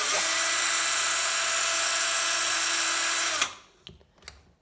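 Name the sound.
Ryobi SDS rotary hammer drill running in hammer mode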